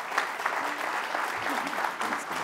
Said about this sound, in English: Everyone, if you'll give Jason a round of applause.